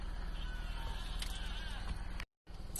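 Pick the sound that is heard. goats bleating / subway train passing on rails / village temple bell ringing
goats bleating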